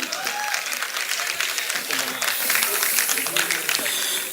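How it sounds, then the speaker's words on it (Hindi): Audience applause at a mushaira poetry gathering in Chakrapanpur, Azamgarh; dense clapping runs throughout and grows a little louder midway, with voices and a call from the crowd over it. "ताली बजा दे यार एक बार"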